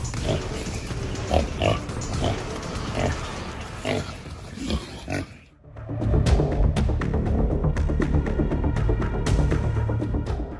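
Wild pigs grunt and snuffle in a close, busy cluster of short grunts and squeals over rustling, growing denser and louder after a brief lull in the middle.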